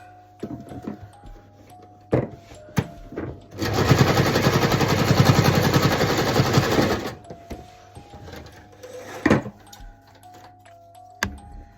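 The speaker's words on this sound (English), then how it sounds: "we're going to use a zigzag stitch" A sewing machine runs a zigzag stitch over elastic for a headband in one loud, fast, rattling burst of about three seconds, set among quieter clicks and handling noises.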